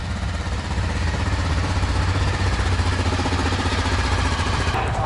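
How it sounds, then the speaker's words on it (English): A Honda motorcycle being warmed up after starting, a steady loud close engine drone with a dense low rumble and clattery texture, no talking. "The Honda guy's even starting my bike for me."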